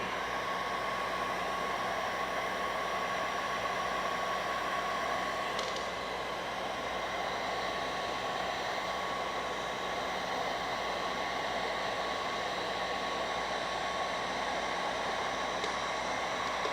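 Heat gun blowing hot air along the edges of paint protection film on a Tesla headlight, a steady loud whooshing hiss that runs without pause from start to finish.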